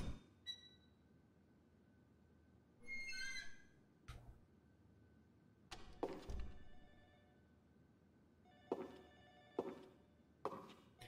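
A telephone rings faintly in the Ju-On: The Grudge video game, played on the Dolphin emulator. The brief rings repeat at intervals among scattered thuds in a quiet, eerie room.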